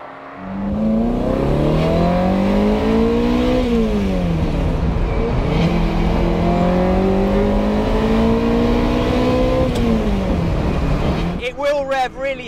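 A Ferrari 308 with a flat-plane crank V8 revs up and down in rising and falling sweeps, loud and close, settling briefly between pulls before a sharper burst near the end.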